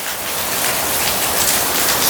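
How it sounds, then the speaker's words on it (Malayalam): Steady rain pours down, a dense, even hiss of drops on surfaces, close and fairly loud throughout, with no voices. "ഈ മഴ പെയ്യുന്ന കാര്യം പറഞ്ഞത്"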